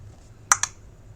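Two quick plastic clicks about a tenth of a second apart, close and crisp, from a mouse on a ClickN Kids tablet, with a faint low hum underneath and no talking.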